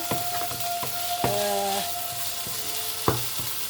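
Green beans sizzle in a pan with onion and garlic, a soft, steady frying hiss broken by a few sharp clicks and scrapes of stirring close by.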